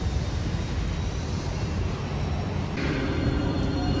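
Hiroshima Electric Railway streetcars bunch up three in a row on the approach to Hiroshima Station amid busy traffic, a steady broadband rumble of wheels and street noise holding at a constant level, with a slight brightening of the texture near the end.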